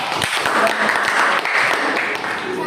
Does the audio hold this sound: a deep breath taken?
no